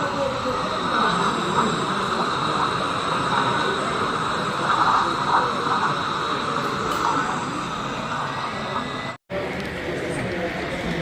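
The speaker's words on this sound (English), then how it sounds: "As you can hear from the loco there." A model O gauge locomotive with DCC sound runs on a club layout at a model railway open day. It gives a steady, continuous engine rumble with a brief cut near the end, and people talk nearby.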